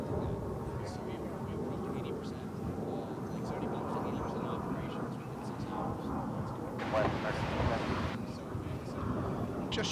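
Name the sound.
American Airlines airliner at DFW Airport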